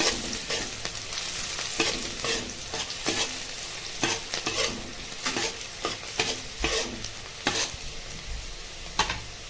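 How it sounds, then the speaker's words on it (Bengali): Chopped onion fries in a pan, crackling and sizzling steadily while a spoon scrapes and stirs it in frequent irregular strokes, close up with no talking. "দিয়ে দিতে হবে কুচনো পেঁয়াজ, পেঁয়াজটাকে ভালো করে ভেজে নিতে হবে।"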